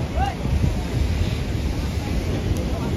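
Ocean waves wash onto a beach in Goa as the surf grows stronger, a steady, loud roar with wind buffeting the microphone throughout.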